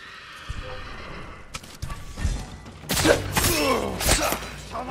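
Samurai horses at the stables in the video game Ghost of Tsushima whinny loudly, with thuds and clopping hooves. The sounds swell in bursts over a quieter opening, and voices are heard amid them.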